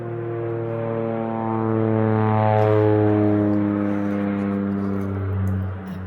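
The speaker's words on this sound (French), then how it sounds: "le petit avion décolle de la piste avant de se mettre à grimper" A small propeller airplane takes off from a runway and climbs, its droning engine loud and steady with a strong buzzing hum that swells and then slowly fades as it pulls away.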